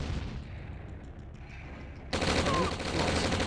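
Burst of strafing gunfire from a Command & Conquer–style EA strategy game, loud and sustained in the second half after quieter game ambience with faint unit voice chatter.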